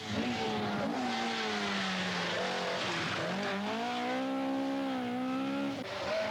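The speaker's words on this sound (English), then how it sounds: "Reveling in the final high-speed miles of this superbly organised event, Bertie Fisher's Escort reels off the remaining distance." Bertie Fisher's Ford Escort rally car speeds past at high speed, its engine a sustained loud whine that dips and rises in pitch as it changes gear, heard alone without talk.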